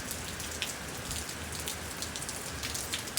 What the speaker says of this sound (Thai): ฝนตกหนักๆก็ ตื่นเต้นนะ